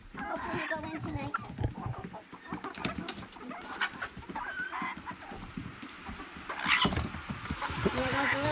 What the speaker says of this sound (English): There goes the little rooster. And he started crowing today.